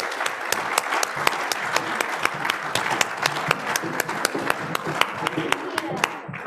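A room of people applauds donors at a hybrid meeting, steady dense clapping throughout with a few sharper individual claps standing out, fading slightly at the very end.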